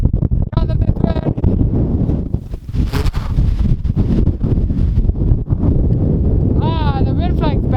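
Strong wind buffets the microphone on frozen Moosehead Lake in near blizzard conditions during ice fishing, a loud continuous roar with gusts, while people talk over it.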